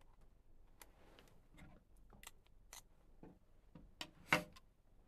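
Scissors snip through a sheet of nori seaweed, a string of faint, sharp, irregular clicks and cuts in a quiet room.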